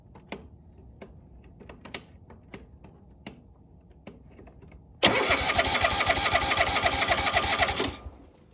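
A Kohler Courage 27 engine on a Cub Cadet riding mower is cranked and fires, its loud steady running roar cutting in abruptly after light mechanical clicks and ticks, then cutting off near the end.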